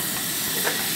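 Food sizzling in a hot pan with butter at a remote car camping site, a steady loud hiss that swells slightly near the end, with no talking.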